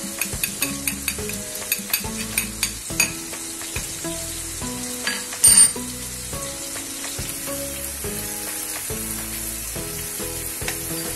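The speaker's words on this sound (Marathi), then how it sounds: "आपण हे परतून घेऊया।" Crushed garlic sautés in a pan of hot oil for a spinach and paneer curry, with steady sizzling and repeated scraping clicks of a spoon stirring. Near and continuous, one louder clatter partway through, no voices.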